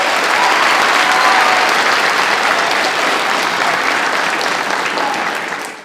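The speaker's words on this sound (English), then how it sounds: "big round of applause." A school audience applauding at a middle school celebration honoring a teacher of the year, dense sustained clapping from a large crowd that holds steady and then fades at the end.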